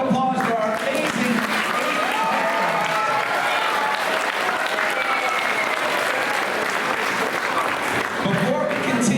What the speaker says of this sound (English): Another round of applause for our amazing